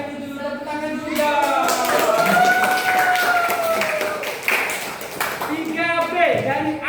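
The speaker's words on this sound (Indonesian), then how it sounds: "Tepuk tangan dulu ya" A classroom of students claps hands in a series of sharp, scattered bursts while children's voices and a teacher talk over the clapping.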